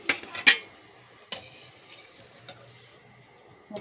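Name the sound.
frying palm fruit fritters (taler bora) in oil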